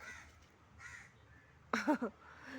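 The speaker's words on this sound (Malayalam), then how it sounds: "കാക്ക" Outdoors near a house, a crow gives a couple of faint distant caws, then a loud close double caw toward the end.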